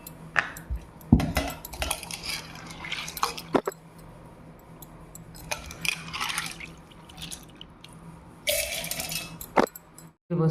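Soaked, washed sorghum grains are scooped into a grinder jar, giving wet clinks of a spoon and jar, drips, squishy handling, and a brief rush of poured water near the end. No one speaks.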